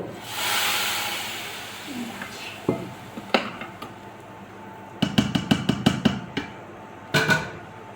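Hot tadka tempering is poured into kadhi with a short burst of sizzling hiss, followed by scattered sharp clinks and clatters of metal utensils and pots in a home kitchen.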